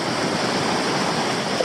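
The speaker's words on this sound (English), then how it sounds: "We're getting in the hot springs waterfall slowly." Hot springs waterfall in Italy, a dense continuous rush of falling water, close and steady without pause, no voices.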